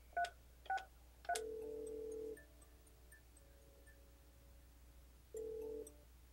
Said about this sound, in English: dial the extension we'd like to transfer to